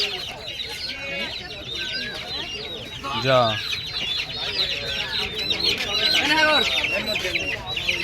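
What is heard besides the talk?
ducks and chickens at a poultry market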